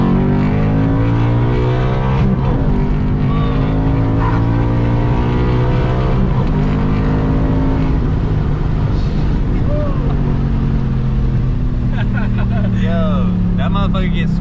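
Full bolt-on Ford Mustang GT revving hard and pulling up through the gears, a loud close engine roar rising and dropping with each shift, with a tire squeal near the end and people talking over it.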